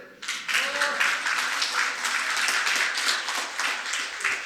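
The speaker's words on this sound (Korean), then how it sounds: "죽이면 박수 치세요." Audience applause at a lecture on smartphone productivity, a steady burst of many hands clapping that starts abruptly and carries on evenly at moderate volume for several seconds.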